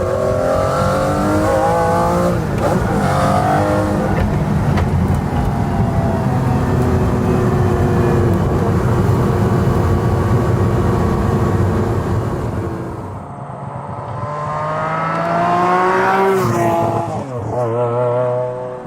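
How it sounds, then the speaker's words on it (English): A McLaren F1 supercar accelerates hard through the gears, its engine roaring loudly and rising in pitch over many seconds, dipping briefly on a shift before climbing again, close and unbroken. "slam the throttle open at any speed in any gear and the car just explodes forward"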